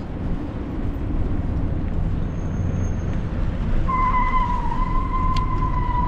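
Car tyres screeching on a street, a steady traffic and engine rumble with a sharp high squeal rising near the end and holding for a couple of seconds.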